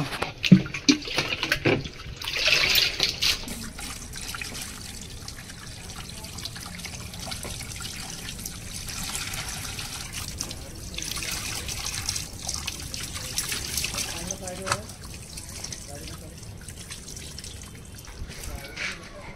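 Water is poured out of a drum in a household setting, giving a steady trickling and splashing that runs throughout, with louder bursts early on and people talking over it.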